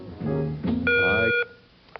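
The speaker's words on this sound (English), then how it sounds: "He pressed the buzzer before the music was heard." Quiz show buzzer at a 1994-95 academic challenge competition, a short electronic tone sounding alone after a brief musical burst, clear and close with no talk.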